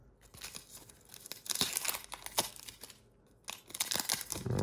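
Foil wrapper of a Pokémon card booster pack being torn open by hand, with several crisp ripping and crinkling bursts separated by brief pauses, close and fairly loud.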